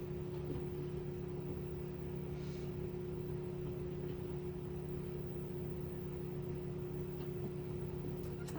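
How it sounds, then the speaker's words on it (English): Steady low buzzing hum of a microwave oven running in the background, constant and unchanging throughout, with no talk over it. "You might hear a little bit of a buzzing because I do have the microwave on in the background right now"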